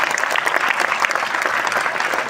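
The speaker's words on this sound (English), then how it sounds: "So we need to give them a big round of applause." An audience at a musical evening claps loudly and steadily, a dense, even applause from a crowd of listeners that fills the whole short stretch.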